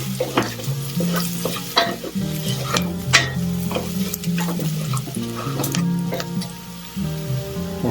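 Mango curry ingredients sizzle and fry in a pan for a Sri Lankan dish, a steady crackling bed broken by repeated scrapes and stirring clicks of a utensil.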